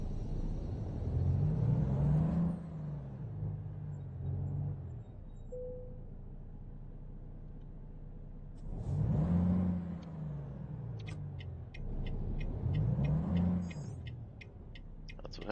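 A heavy truck in American Truck Simulator pulls away after the parking brake is released, its engine revving up in three loud surges separated by quieter idle stretches, with faint clicking near the end.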